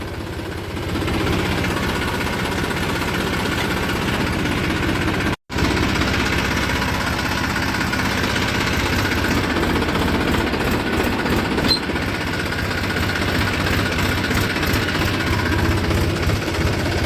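A tractor, shifted into forward gear instead of reverse, rumbles loudly and steadily throughout with a rattling, knocking chug, cut by one brief dropout partway through.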